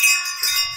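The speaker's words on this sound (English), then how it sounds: "hit the bell so you are notified" A short, bright notification bell chime rings out clearly, its ringing tone fading over less than a second with no talk.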